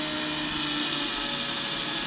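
A power drill boring holes through a wooden block on the roof of a VW Westfalia bus while fitting Thule roof rack cross bars, a steady high whine held without a break, close and alone.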